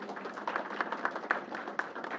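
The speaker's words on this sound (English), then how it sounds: "Let's give her a round of applause." An audience at a New York COVID-19 briefing applauds a borough president. Steady, moderately close clapping from a modest crowd continues without talk.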